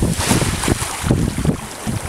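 Wind gusting across a bay from an incoming southwesterly, roaring steadily over the microphone with low rumbling surges and a wash of water and boat noise, no talking.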